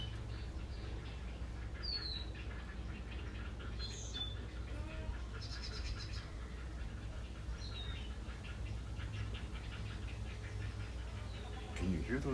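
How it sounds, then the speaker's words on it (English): Several short, high bird calls ring out faintly in the distance at intervals over a low outdoor rumble. "Can you hear those birds?"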